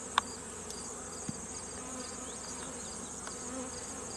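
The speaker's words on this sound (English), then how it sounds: "If you watch the bees, you could see them coming in and flying." Bees fly in and out of a hive outdoors, producing a steady close buzzing hum throughout, with a few faint clicks.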